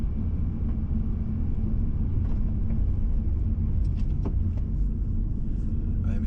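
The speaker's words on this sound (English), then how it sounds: "As you can see, I'm operating a 5-speed vehicle." Steady low engine rumble and road noise from inside a manual five-speed stick-shift car driving through West Kensington, continuous and close, with faint light clicks and rattles in the cabin and no talking.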